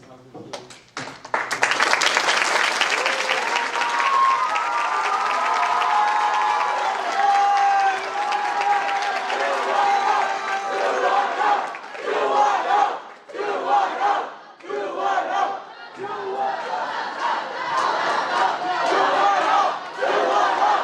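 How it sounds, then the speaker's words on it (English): A large audience at a high school debate tournament final erupts into sustained applause, cheering and whooping for the cross-examination finalists, loud and close, with the clapping ebbing and surging over about twenty seconds. "Another big round of applause for our cross-examination finalists."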